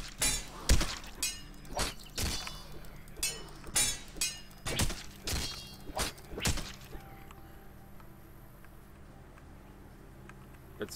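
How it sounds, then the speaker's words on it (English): A machete being smashed apart in the zombie game The Last Stand: Aftermath, with a run of loud, sharp shattering and breaking impacts roughly every half second that stop partway through, leaving a quieter low hum. "Let's finish up destroying this machete real quick."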